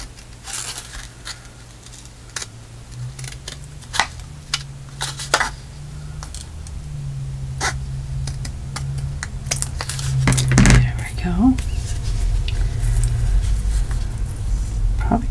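Scissors snipping a thin paper strip for a mixed media collage, a series of small sharp cuts and paper rustles, close and quiet, followed by louder handling noises.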